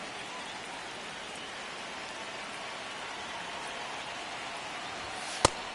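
Steady hiss of falling rain in the baseball video game MLB The Show 26, an even, soft wash of patter with a single sharp click near the end.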